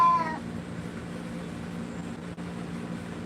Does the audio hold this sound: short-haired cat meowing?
yes